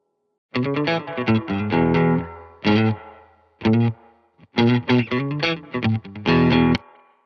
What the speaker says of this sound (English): we'll put a plugin on there to create some reverb